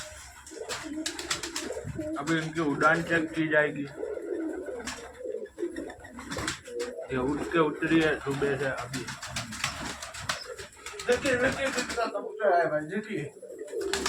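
Pigeons coo steadily at feeding time among a large rooftop flock, their soft repeated calls running throughout under a man's ongoing close speech.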